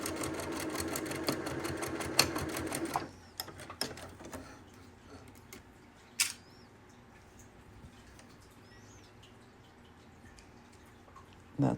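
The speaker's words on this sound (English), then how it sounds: "Here I am sewing the other side." A home sewing machine stitches a seam in a flannel shirt, with a rapid mechanical whir and rattle for the first few seconds, then stopping, leaving quiet room noise and a few faint clicks.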